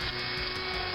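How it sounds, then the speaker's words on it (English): An electric drill whines steadily and loudly up close as it bores into a Corgi Ford Thames toy ice cream van model, a continuous high buzzing with no talk. "Here we are, drilling again."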